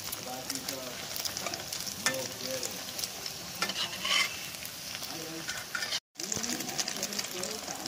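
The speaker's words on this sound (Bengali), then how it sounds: "মা এভাবে ভেজে নিচ্ছে এক একটা পাঁপড়" Papad coated in beaten egg, fried one by one in a pan, makes a close, continuous sizzle and crackle of oil with occasional stirring sounds and a faint voice in the background, broken by a brief silent gap.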